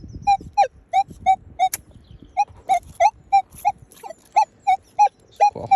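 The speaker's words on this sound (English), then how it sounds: "I've got a wispy signal here, high pitch 84." A metal detector sounds a wispy high-pitched signal while sweeping a UK field site, giving a regular string of short, evenly spaced beeps about a third of a second apart. The beeps are clear and close over faint background noise.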